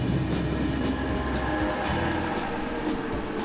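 A train at a large station in Frankfurt rumbles steadily, with a low rolling drone and faint rhythmic clicks from the wheels throughout.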